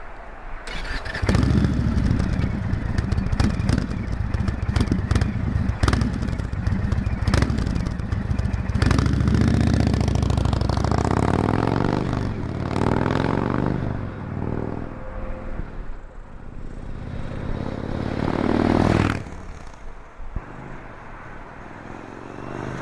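A 2018 Indian Chieftain motorcycle with a loud, deep Stage 1 aftermarket exhaust with medium baffle roars past close by, its engine note rising and then fading as it moves away.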